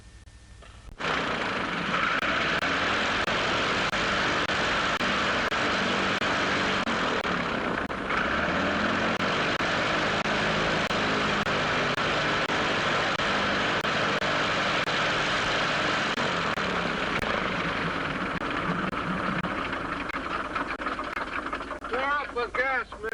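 A small airplane's engine drones steadily for over twenty seconds with a constant, loud roar, running smoothly, while voices talk over it.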